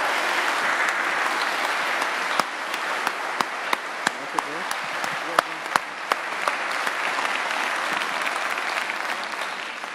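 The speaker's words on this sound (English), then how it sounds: "Give him a big hand." Sustained applause fills a packed Amsterdam lecture hall at a political lecture event, a dense, even roar of many hands with occasional sharper nearby claps standing out, continuing throughout with no pause.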